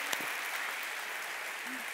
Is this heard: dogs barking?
no